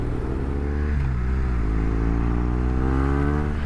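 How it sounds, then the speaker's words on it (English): A BMW R1200 R motorcycle engine revs up steadily in dynamic mode, its pitch climbing with a brief dip midway, loud and close throughout. "The exhaust note has changed. It's significantly quicker throttle response."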